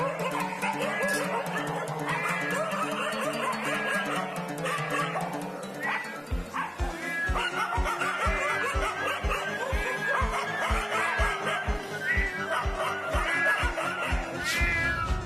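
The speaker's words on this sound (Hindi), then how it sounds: "कुत्ते और बिल्ली आपस में बैठकर झगड़ा कर रहे हैं।" Cartoon dogs and cats squabbling, with meows, yaps and barks, then a quick run of rhythmic barks over a busy music bed, with snickering voices mixed in.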